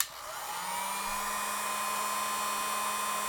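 A heat gun blowing steadily against a plastic tab, a constant whooshing roar with a faint whine, close and continuous after a brief start-up.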